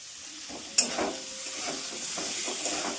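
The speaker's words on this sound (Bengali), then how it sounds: "এটা একটু ভাজা ভাজা হোক," Boiled jackfruit fries in a pan with a continuous soft sizzle. A sharp clank of a utensil against the pan comes early, followed by quieter scraping stirs.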